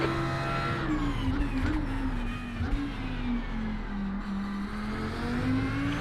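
Audi R8 GT3 race car in iRacing at Spa, its engine droning loud and steady throughout with a rising and falling pitch as it pulls through gears, no talk over it.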